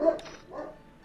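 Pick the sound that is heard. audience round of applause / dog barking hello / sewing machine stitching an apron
dog barking hello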